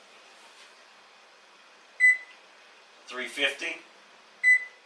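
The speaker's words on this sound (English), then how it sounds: "We're going to preheat the oven" An oven's control panel beeps as it is set to preheat: two short, clear electronic beeps a few seconds apart, with a brief spoken word between them.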